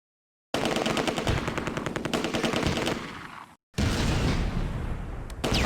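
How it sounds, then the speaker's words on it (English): Rapid machine-gun bursts and heavy gunfire from a Close Combat battle in a World War II German campaign, loud and dense, cut off abruptly then resuming in a second sustained barrage. "hear mortars. Where are they?"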